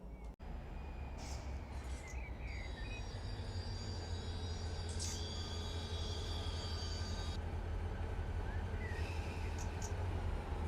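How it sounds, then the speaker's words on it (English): In Run8 Train Simulator, an intermodal freight train hauling semi-trailers rolls past, a continuous low rumble of wheels and cars with intermittent high metallic wheel squeals, steady and sustained throughout. "this train's moving, and as you can see, he's got a bunch of semi-trailers"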